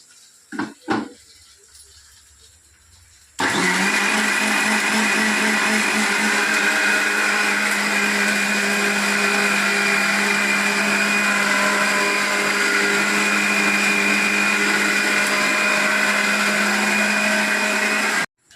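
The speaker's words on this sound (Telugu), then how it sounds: "మిక్సీ పడుతున్నాను. కొంచెం వాటర్ పోసి మళ్ళీ ఒకసారి తిప్పుతాను." A kitchen mixer grinder blends peanut chutney with added water, starting after a few faint clicks and then running as a loud, steady whirring drone for about fifteen seconds before stopping abruptly.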